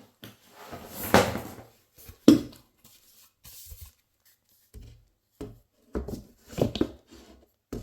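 Scattered wooden knocks and scrapes as the second side panel of an IKEA PAX wardrobe is slid into place, with a few sharper thuds between quiet pauses.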